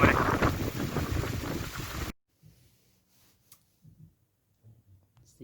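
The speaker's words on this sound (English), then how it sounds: "Get a bit windy and rainy now." Gusty wind buffets the microphone loudly outdoors on a South Downs hike in windy, rainy weather for about two seconds, then cuts off abruptly to near silence with a few faint handling knocks.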